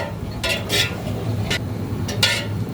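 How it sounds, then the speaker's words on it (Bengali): Heated milk with vinegar being stirred continuously for mozzarella, a few soft scraping strokes of a spoon against the pot, close and fairly quiet, with no one talking. "আমি ভিনেগার দিয়ে কিন্তু অনবরত নেড়েই যাচ্ছি বন্ধ করা যাবে না নাড়া"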